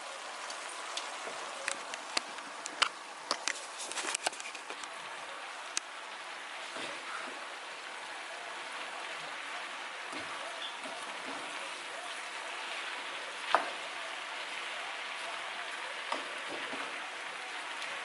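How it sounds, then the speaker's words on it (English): Jamaican oxtail cooks in its own liquid in a pot and is stirred, giving a soft, steady hiss of sizzling with scattered light clicks and scrapes, close and fairly quiet. "We're going to give this a nice stir."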